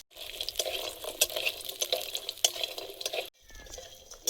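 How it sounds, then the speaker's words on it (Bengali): Lentil dumplings (bori) fry in hot oil, a close crackling sizzle with quick stirring clicks and scrapes, stopping briefly near the end before resuming more faintly. "বড়িটা ভেজে নেব।"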